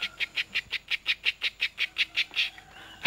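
A man on Daff Island whistles an imitation of a bird call: a quick, even run of about fourteen bright chirps, close and clear, stopping abruptly near the end.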